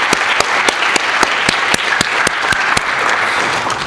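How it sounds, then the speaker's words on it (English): An audience claps for a banjo-themed event at the Cambridge Forum, a dense, steady round of applause with no voices over it. "They deserve a round of applause,"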